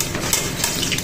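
Stuffed snacks in a batter of flour and a little salt frying in hot oil, a steady close sizzle and crackle with small pops and no talking.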